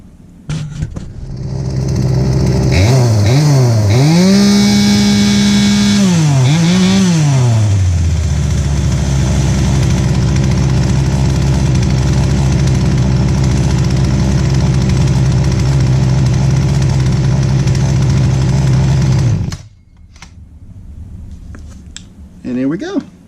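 A Poulan P3816 chainsaw engine, freshly rebuilt carburetor, runs loud and close: a few rising and falling revs, then a steady, slightly rough idle that cuts off abruptly near the end, followed by faint handling noises.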